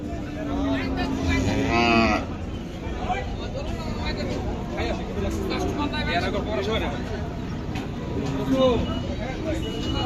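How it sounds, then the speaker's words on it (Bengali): Cattle low and moo repeatedly at a crowded Qurbani cattle market in Bangladesh, several long calls rising over constant crowd chatter and voices nearby. "এখানে একটা পাকড়া গরু আছে"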